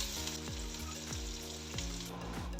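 Finely chopped onion frying in oil in a pot, a steady close sizzle with a few soft stirring scrapes.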